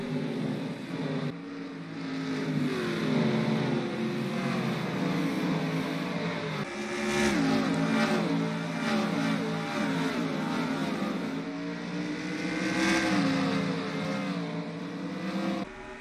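NASCAR race cars roar around a road course, engines revving and shifting through gears as several cars pass in succession, loud and continuous with rising and falling pitch.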